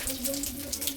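Water runs steadily from a tap, a soft, continuous splash with a faint hum beneath it, heard close and alone without talk.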